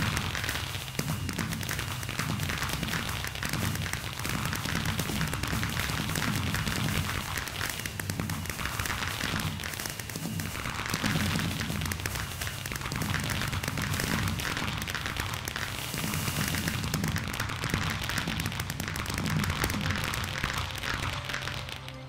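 Repeated firework bursts and crackles in a Minecraft-style game, dense booms and pops layered continuously over about twenty seconds at moderate level, with no talking.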